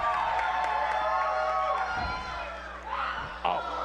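Arena crowd at a women's professional wrestling match cheering and roaring in a steady wash of noise, with a few louder swells and shouts toward the end.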